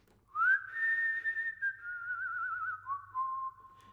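A single long whistled note, sliding up at the start and gently wavering before stepping down, with a reverberant, echoey tail; quiet and alone.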